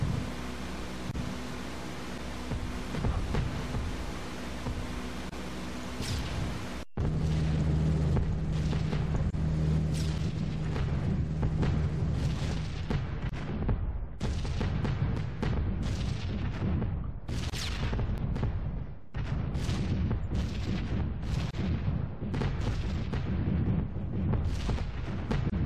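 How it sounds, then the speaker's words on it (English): Flak bursts around a B-17 bomber in a flight game: a dense, continuous roar of engine drone with repeated heavy booms and crackling explosions, loud and close. "Fortunately, the flak's not too heavy."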